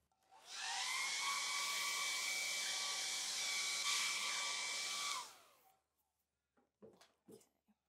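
A hair dryer blows on wet watercolour paint, a steady loud whir lasting about five seconds before switching off, followed by a few faint clicks and taps.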